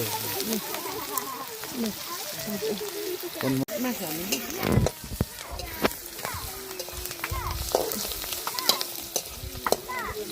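Hot oil sizzles continuously as local free-range chicken is stirred in a pan over a wood fire, with scraping and clattering, while voices talk intermittently in the background.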